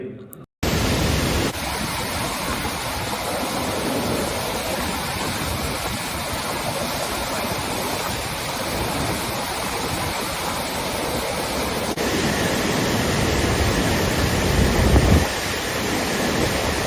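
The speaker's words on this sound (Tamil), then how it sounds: "தேனி மாவட்டம் கம்பம் பகுதி வழியே செல்லும் முல்லை பெரியாற்றில் வெள்ளம் பெருக்கெடுத்து ஓடுவதால்" Flood water on the Mullai Periyar river in Theni district's Kambam area after heavy hill rain surges in a loud, steady roar of broad rushing noise that continues without a break.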